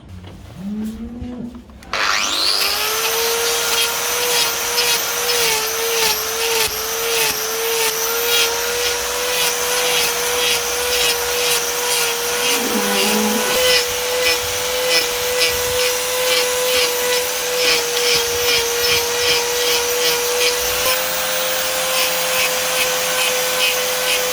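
A hoof trimmer's electric grinder spins up and runs steadily on a cow's overgrown dew claws, a loud sustained whine with grinding texture, briefly shifting pitch as it bites, with no talk over it.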